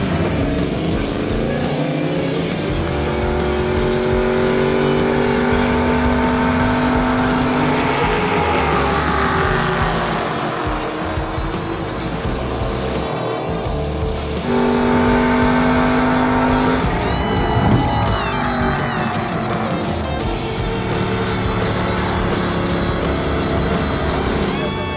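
Loud, close engine roar inside a NASCAR race car on a ride-along at speed around Auto Club Speedway, revs climbing and dropping through gear changes with a constant wind and road rush, with no talk.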